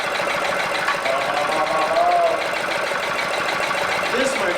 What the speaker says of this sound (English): This, my friends, is a water-powered engine.